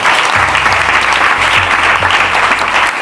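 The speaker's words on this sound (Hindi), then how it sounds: "उस परमेश्वर के लिए एक बार ताली बजा दीजिए।" A church congregation claps during a Hindi sermon, giving dense, loud, sustained applause with a low hum running beneath it for about three seconds.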